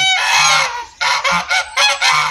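Geese honk loudly in a close series of harsh calls, a sustained cry followed by several short bursts, with no talking.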